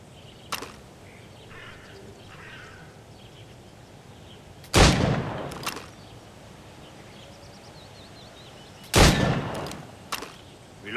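Gunshots fired at targets in Assassin's Creed Rogue: three loud, sharp cracks spaced a few seconds apart, each followed by a fainter echo, over quiet ambient background.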